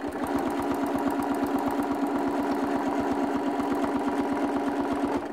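A sewing machine runs steadily during free-motion quilting of a geometric design, its needle hammering in a fast, even rhythm for several seconds, loud and close with no talk.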